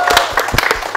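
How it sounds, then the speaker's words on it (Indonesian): Audience applause after a university student choir performance, a burst of clapping with scattered sharp claps over about a second, fairly loud and close. "Tepuk tangan dulu."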